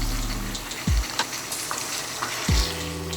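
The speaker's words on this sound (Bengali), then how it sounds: "এবার বেরেস্তা করা পেস্টটা দিয়ে দিচ্ছি।" Chicken sautés with fried onion paste in a hot pan, sizzling steadily up close, with two dull thumps of stirring and no talking.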